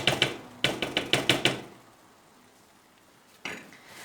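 A metal spoon clatters and scrapes against the bottom of a pot of rice pilaf in quick bursts of sharp knocks, then goes quiet before one last scrape near the end.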